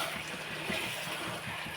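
Water poured into chicken curry cooking in a pan, a continuous close splashing, pouring rush that holds steady throughout.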